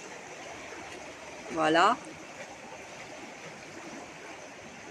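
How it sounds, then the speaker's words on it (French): The Aude river flows nearby, a steady broadband rush of water running throughout, with a brief spoken word partway through. "Comme ce cours d'eau à côté de moi que vous entendez"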